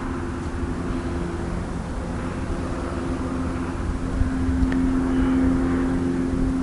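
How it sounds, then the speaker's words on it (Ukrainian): Crosswind buffets a microphone out on a frozen lake while winter spinning fishing for perch, a steady broadband rushing roar with low rumbling gusts that swell a little toward the end, no voices. "Починає задувати боковий вітер. Якщо будуть якісь поміхи, у відео, ну, зі звуком."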